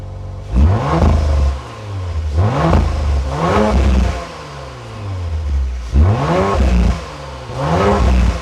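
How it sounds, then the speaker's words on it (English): An Audi RS4 fitted with a Milltek decat exhaust barks through a series of sharp revs, five or six rising bursts of loud, throaty engine noise that fall back to a rumbling idle between each blip. "warm up this car so you can hear it start"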